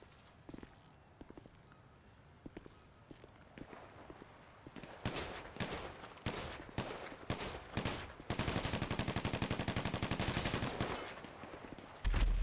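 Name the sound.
gunfire in a video game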